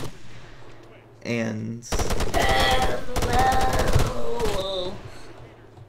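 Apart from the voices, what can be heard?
gunfire from soldiers shooting in video game Arma 3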